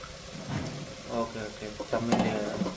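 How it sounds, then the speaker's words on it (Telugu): Spices fry in a pan with a crackling sizzle and intermittent stirring scrapes, heard close up while a person talks over the cooking. "సో ఇలాగా బాగా ఫ్రై చేసుకోవాలి"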